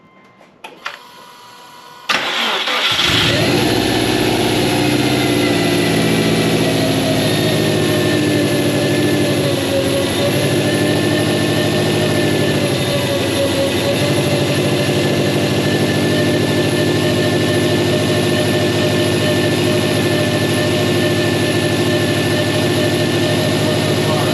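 A Subaru Legacy GT engine cranks and catches after a couple of seconds, then settles into a loud, steady idle with a constant whine and hum, close up.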